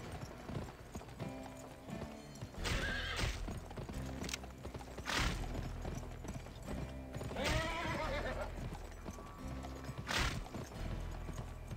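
Rhythmic hoofbeats of a galloping horse in a video game run throughout, broken by several loud whinnying neighs, with game music and effects underneath.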